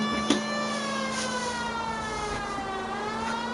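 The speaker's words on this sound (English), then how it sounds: "The siren? This is a get the hell out of the way siren." A police car siren in the video game L.A. Noire, loud and close, wailing with rising and falling tones over a car engine hum, with a short thump near the start.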